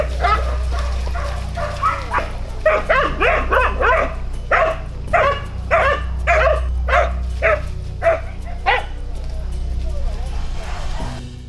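Hunting dogs tracking wild boar in a forest bark in a quick, fairly regular series of sharp, close barks and yips, with a person talking underneath.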